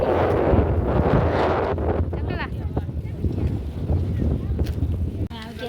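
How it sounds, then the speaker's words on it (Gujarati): Wind gusting through a very narrow lane, a steady broadband rush with buffeting against the microphone, loud and close throughout. "પવન પણ મસ્ત આવી રહ્યો છે"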